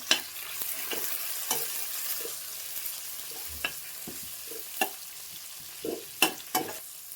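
Tomatoes frying in oil for vermicelli upma, a soft sizzle under intermittent scraping stirs and a few sharp spoon clicks against the pan, close and fairly faint, no voices.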